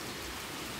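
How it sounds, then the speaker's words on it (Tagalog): Rain falling as a dense, steady hiss of close, fairly soft wash with no distinct drops or voices during the brief stretch. "It's raining."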